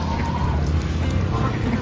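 Indian Runner ducks and geese at a bird sale. A dense, close chorus of quacks and honks runs through a brief, loud burst.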